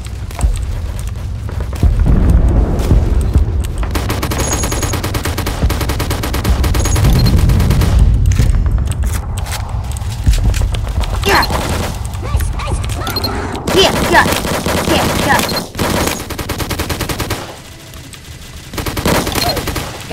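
Minigun firing in a Roblox game, a dense sustained stream of rapid shots with booming impacts, loud and continuous across the clip, with brief breaks and shifts in intensity.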